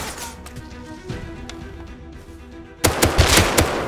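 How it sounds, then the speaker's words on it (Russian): Bursts of automatic gunfire in the survival game Rust, a loud rapid volley erupting after a stretch of quieter, scattered shots and background game noise. "По мне стреляют."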